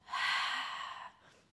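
A single audible breath is pushed out during a hip-twisting exercise. It is a soft, airy exhale of about a second that fades into a quieter tail.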